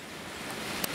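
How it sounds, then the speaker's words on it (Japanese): A steady, even rush of falling water from Shinobazu Falls at the Nagashino Castle ruins in Shinshiro, Aichi, Japan, fills the air, a constant broadband hiss with a brief louder splash near the end. "これ滝なんですよ、不忍の滝。"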